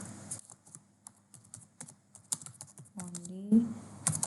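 Someone types instructions on a computer keyboard while building a Scratch project, with a steady patter of soft, close key clicks under intermittent quiet speech.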